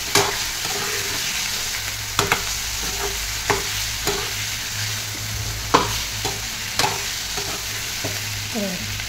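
Eggplants sauté in hot oil in a pan, with a steady sizzle throughout and regular scraping and knocking as a spoon stirs them every second or so, close up and without talk.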